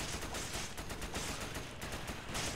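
Dense, steady gunfire from the video game Resident Evil 5, a continuous loud clatter of overlapping shots with no pauses across the stretch.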